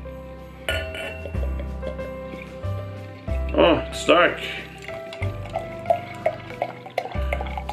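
A dark 9% ABV AleSmith beer from a big bottle pours into a glass nearby, with gurgling liquid and glass clinks while someone talks briefly over it.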